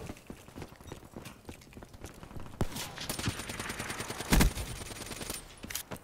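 Shotgun blasts and other gunfire from Black Ops 3 crack out amid busy game noise, with one loud, heavy report standing out near the end over a steady clatter of footsteps and shots.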